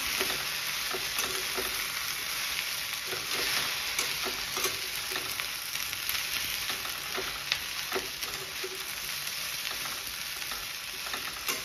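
Paneer frying in a pan as a thin arrowroot paste is poured in, giving a loud, steady sizzle with stirring and scraping clatter running throughout, no voices.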